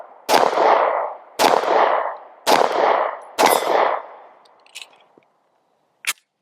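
Four sharp pistol shots fired at an even pace with a Tyrant Designs CNC flat trigger, each loud close crack trailing off into a short echo, followed by a couple of faint metallic clinks.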